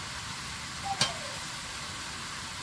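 Cut vegetables stirred in a cooking pan, heard as a quiet, steady sizzle with one short scrape of the spoon near the middle.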